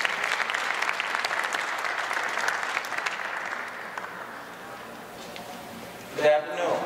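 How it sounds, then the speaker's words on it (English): An audience applauds for speaker Otis Bullock at a talk event, steady clapping that fades to a thin patter, ending with a brief close bump. "Round of applause for Otis."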